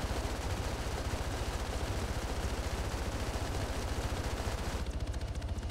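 Sustained automatic gunfire pours steadily at power infrastructure and towers, a dense rapid rattle of shots that runs the whole time without a break, loud and close, with no talking over it.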